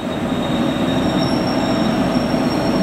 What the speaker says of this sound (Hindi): इधर ट्रेन निकलते हुए वाराणसी लखनऊ जो प्रतापगढ़ होकर के जाती है